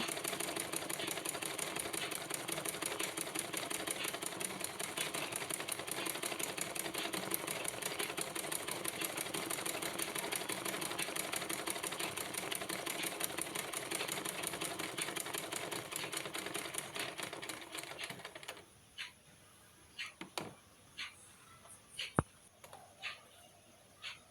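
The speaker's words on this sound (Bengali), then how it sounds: "এভাবে পুরোটা কাপড় সেলাই করে নেব" Sewing machine stitching torn cloth, a fast, steady mechanical rattle running for most of the span before cutting out, followed by a few isolated clicks and handling knocks.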